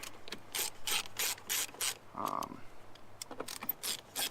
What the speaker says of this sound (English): I get my number 2 Phillips head, and I take these 4 screws out